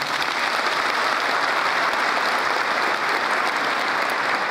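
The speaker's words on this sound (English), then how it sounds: "let's give a round of applause to our 2013 graduates" A graduation ceremony audience applauds the 2013 graduates of Zimbabwe Open University, a steady wash of many hands clapping, loud and sustained without pause.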